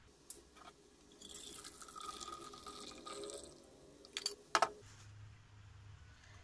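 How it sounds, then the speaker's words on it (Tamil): Hot masala tea is strained into a vessel, giving a soft, continuous trickle and splash of liquid. A few sharp metallic clinks of the strainer and pot follow near the end. "இது வந்து ஒரு பாத்திரத்துக்கு வடிகட்டி எடுத்துக்கலாம்."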